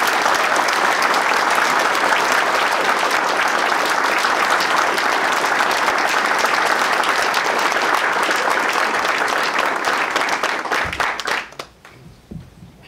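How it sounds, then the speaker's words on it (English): A roomful of people gives a long, steady round of applause for Mark at an evening gathering. The dense clapping holds at full strength for about eleven seconds, then thins out and stops. "with a round of applause for Mark"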